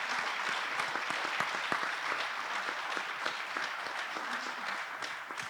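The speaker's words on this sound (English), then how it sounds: "I just want to give my claps off to you" Steady applause from an audience at an annual farmers and friends panel meeting, dense and sustained clapping with no break, heard from within the room at moderate level.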